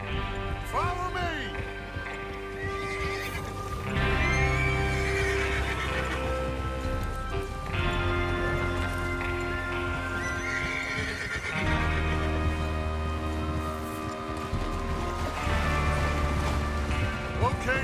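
Horses in Red Dead Redemption 2 whinny and neigh repeatedly over continuous clip-clopping hooves and game music, loud and close throughout.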